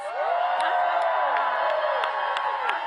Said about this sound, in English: let's applaud our first-time voters